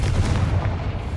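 A Confringo fire spell blast in Hogwarts Legacy, a short heavy boom with a dense, rumbling low end that stays loud throughout just over a second.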